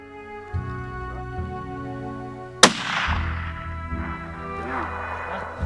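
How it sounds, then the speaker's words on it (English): A single loud rifle shot rings out outdoors during a hunt with a lightweight rifle, its sharp crack followed by a long decaying echo over a steady low engine-like hum. "Put another shell in, Brent."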